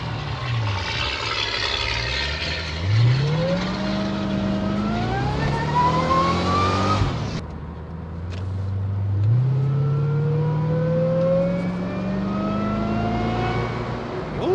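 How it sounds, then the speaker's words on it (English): A supercharged 2005 Corvette C6 FC6 pulls hard through two rising revs, and its supercharger whine climbs in pitch over the loud engine roar. A brief dip comes between the pulls, then a second long climb. "Supercharger noises."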